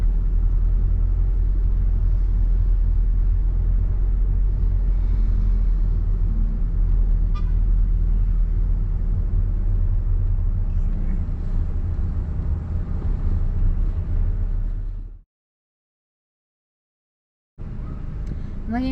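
A car rolls slowly along tree-lined lanes in a cemetery in Portland, Oregon, giving a steady, loud low rumble of engine and road noise that cuts out briefly near the end and then resumes.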